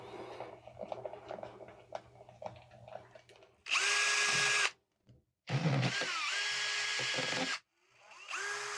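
A power drill drives screws into a homemade Halloween prop, a Jacob's ladder for a mad scientist illusion, in two close, loud bursts: a short whir, a pause, then a longer steady run, with quiet workshop clatter before.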